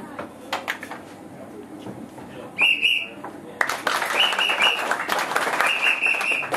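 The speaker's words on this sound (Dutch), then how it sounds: "Als ik fluit, dan moeten jullie klappen." A sharp whistle blast sounds, then an audience bursts into rhythmic clapping, followed by further whistle blasts over continuous loud applause from a crowd nearby; voices mingle faintly in the background.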